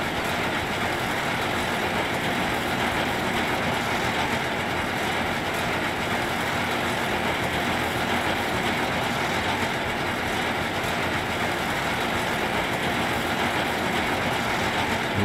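Tractor engine running in a farming video game at harvest time, a steady loud drone with constant rumble throughout, no talk over it.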